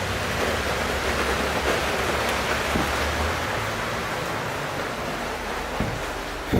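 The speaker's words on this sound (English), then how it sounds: "It is raining like crazy." Dense, steady downpour hisses continuously, a loud wash of rain with occasional drips and taps.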